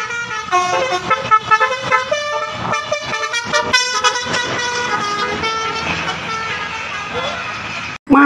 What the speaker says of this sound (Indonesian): Kali ini ada bus pahala kencana teman-teman.